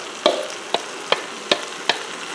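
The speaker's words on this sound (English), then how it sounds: "I got all these onions, right? So let's dump these in." Chopped onions stirred in a hot pan, sizzling steadily under five evenly spaced sharp knocks of a utensil against the pan, close and clear.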